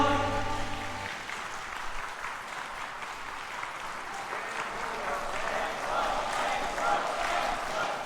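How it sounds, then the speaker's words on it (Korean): A church congregation claps together after a call to give glory to God, a steady dense wash of applause carrying on for several seconds after a brief musical tail fades at the start. "우리 하나님께 모든 영광의 박수 올려드립시다"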